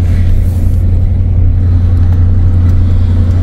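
Car driving along a wide, busy street, heard as a loud, steady low road and engine drone from inside, continuous throughout with no talking.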